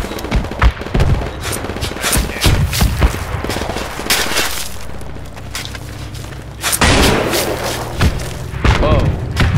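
Mortar fire in Project Reality BF2 heard as heavy booms and thuds mixed with bursts of distant gunfire, loud and dense throughout, with a deep rumble trailing the larger blasts.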